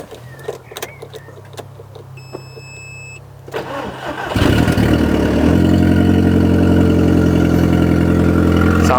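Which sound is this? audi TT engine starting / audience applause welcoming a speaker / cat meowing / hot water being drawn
audi TT engine starting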